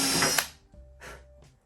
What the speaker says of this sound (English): I'm going to carefully drill a hole